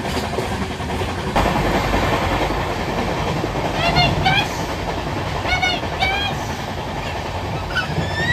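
The 12821 Shalimar–Puri Dhauli Express runs on its rails with a dense, continuous rumble heard from on board. Brief high wheel squeals rise and fade through the loud, steady roar.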